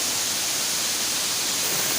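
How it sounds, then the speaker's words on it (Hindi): A waterfall at the Jogi Kund picnic spot in a Bihar forest roars close by as a loud, steady wash of hiss that fills the whole clip without any voices. "देख सकते हैं कि झरना कितना आवाज़ कर रहा है"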